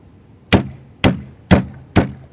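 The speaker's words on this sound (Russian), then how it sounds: "выколотка, которая устанавливается и забивается." A hammer strikes a drift punch to drive the stock pin of an AK rifle into place, four sharp metallic blows spaced about half a second apart, close and loud with a faint ringing after each.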